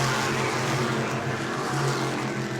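602 modified race cars roar around the New Smyrna track, a dense, continuous engine drone with slight swells as cars pass, steady and fairly loud throughout.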